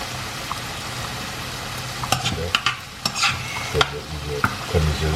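Mustard being stirred into a sizzling pan of red wine meat sauce for spaghetti gives a steady loud frying hiss, with scraping spoon strokes and clinks throughout.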